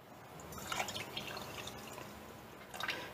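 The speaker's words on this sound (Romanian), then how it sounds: "Apoi vom pune și laptele." Soft pouring and dripping of milk into a pot holding sugar, quiet close trickles with a few splashy bursts, no voices.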